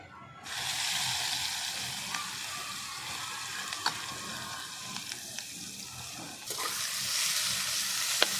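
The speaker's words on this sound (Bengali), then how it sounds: "চলো এবার কড়াইতে দিয়ে চিংড়ি মাছটাকে ভালো করে ভেজে নেব" Small shrimp frying in a wok, a steady broadband sizzle with occasional sharp crackles and stirring scrapes, growing louder near the end; no talk.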